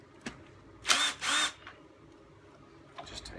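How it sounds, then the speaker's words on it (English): A cordless drill spins in two short bursts, close and sharp, while removing a bolt from the top of a Hayward multi-port pool valve. Faint clicks and handling noises surround it. "that's just easiest done with a drill"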